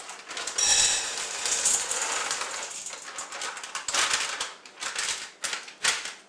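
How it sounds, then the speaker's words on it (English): Semi-sweet chocolate chips pour from a 1 kilogram Hershey's bag, a clattering patter of small hard pieces in bursts that thins into scattered ticks toward the end. "In goes the chocolates."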